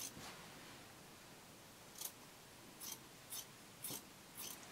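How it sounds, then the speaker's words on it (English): Scissors snipping through the fabric of a wide necktie to slim it, a few faint, separate close cuts spaced apart in a quiet room. "you're just going to cut, making sure you don't cut anything else except this tie form"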